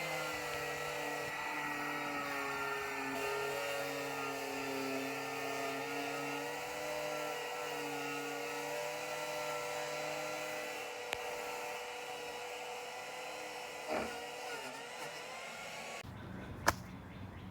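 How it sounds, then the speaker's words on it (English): A power wire brush grinds steadily at close range against rusty metal under a 1959 Vauxhall Victor, a continuous whirring scrape that runs for about sixteen seconds before cutting off, leaving a couple of faint clicks. "So I've got a wire brush. I'll just hook it up here and wire brush it."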